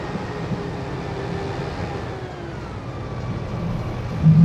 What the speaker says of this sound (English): The train's going through now